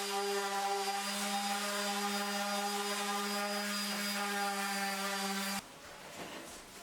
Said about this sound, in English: a wee bit of sanding in the house